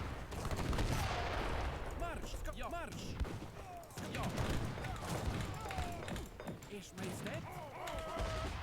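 Bombard cannons and gunfire in an Age of Empires III: Definitive Edition battle, with repeated booming blasts and crackling volleys layered into a dense, loud barrage while a person talks over it.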